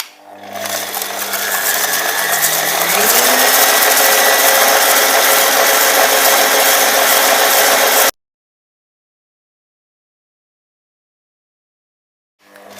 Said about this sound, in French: nous allons verser notre beurre dans le mixeur et nous avons rajouté notre sucre, donc 100 g de beurre, 110 g de sucre, et nous allons mélanger